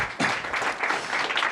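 Applause from a startup demo day audience at a Google for Startups event, a brief burst of clapping that swells and holds steady, moderately loud and close.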